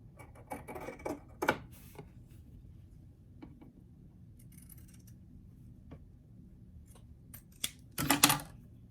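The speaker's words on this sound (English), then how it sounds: "using my pinking shears, I do the same thing that I did on the sleeve, which is just trim that seam" Pinking shears snipping along a fabric seam on a small doll T-shirt: a few sharp, close cuts early on, a quiet stretch, then a quick cluster of crisp snips near the end.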